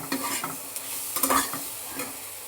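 Spiced potatoes and taro stirred in a pan, soft repeated scraping and a gentle sizzle heard close and quiet, no voices.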